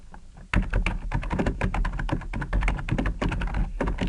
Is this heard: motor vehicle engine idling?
no